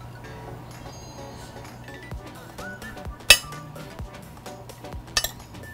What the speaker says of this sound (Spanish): Vamos a mezclar con nuestra carne deshebrada.